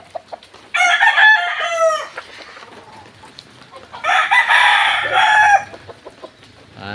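Two loud, close crows from a white Kelso cross gamecock rooster, each a long strained call with a short gap between, over faint background noise.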